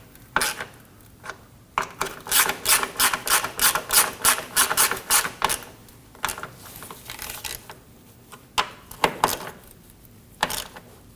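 A hand ratchet snugs down valve cover bolts on a 2003-2006 Subaru Baja 2.5L H4 engine, a quick rhythmic series of clicking strokes followed by a few shorter, scattered bursts.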